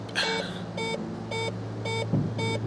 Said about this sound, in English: That's just a low power warning, I guess.